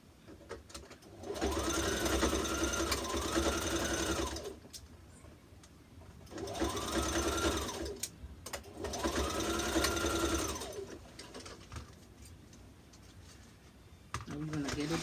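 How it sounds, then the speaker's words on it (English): A sewing machine stitches a jumpsuit seam at a 5/8-inch allowance in three steady runs, a near, even motorized whir with brief pauses between bursts. "next one, stitch, same 5/8 of an inch."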